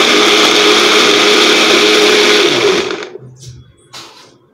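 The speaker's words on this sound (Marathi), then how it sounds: "हे आपण आता मिक्सरला मिल्कशेक बनवून घेऊया" A kitchen mixer whirs loudly for about three seconds, blending a chikoo milkshake with ice cubes, then cuts off abruptly, leaving a few faint clinks and quiet room sound.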